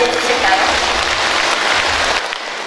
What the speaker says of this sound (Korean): 여러분 환영의 박수로 맞이해주실까요?